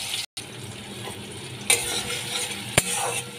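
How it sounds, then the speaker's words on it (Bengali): Chopped tomatoes frying in oil in a pan with spices being stirred in, a steady sizzle broken by a brief silence and two sharp clicks of a utensil against the pan. "তেলের মধ্যে টমেটো কুচি দিয়ে এরপর এর মধ্যে মশলাগুলো আমি মিশিয়ে দেবো"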